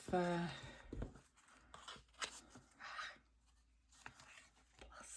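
Scissors snip through a rayon-type fabric in short, irregular cuts and rustles, with a voice talking briefly at the start.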